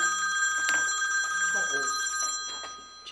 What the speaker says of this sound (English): if you have a cell phone, please turn it off.